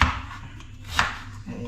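Knife chopping ingredients for paksiw at a cooking setup, a few close, sharp cuts over a low background hum.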